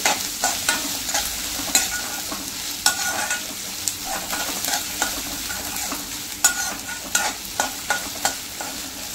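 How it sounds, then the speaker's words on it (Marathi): Chopped onion frying in a pan for a fenugreek leaf dish, a close, steady sizzle broken by frequent sharp stirring clicks and scrapes against the pan. "हा आपण कांदा चिरलाय तो घालते। हे चांगलं परतून घ्यायचंय।"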